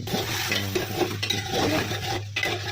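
Spices being stirred while cooking meat for khepcha, with a steady scraping and rustling of the spoon against the pan over a constant sizzling hiss, close and loud throughout.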